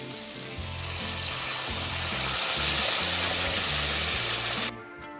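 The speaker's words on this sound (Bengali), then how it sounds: "এবার এর মধ্যে জল দিয়ে দেবো পরিমাণ মতন" Water poured into hot, frying masala for a bhola fish jhal curry sets off a loud, steady hiss and sizzle that holds for about five seconds, then drops away abruptly near the end.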